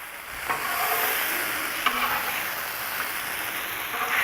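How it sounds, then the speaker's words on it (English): Beef smash burgers frying on a Blackstone griddle, with a steady close hiss of sizzling fat and a few faint scraping clicks from a spatula, without speech. "we're gonna try to cook these burgers about halfway and then we'll flip them over"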